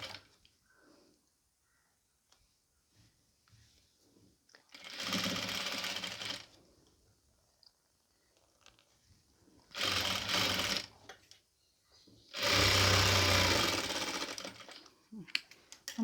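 A sewing machine stitches a pleated nightie in three separate runs of steady, close-up whirring, each lasting one to two seconds, with quiet handling noises between them.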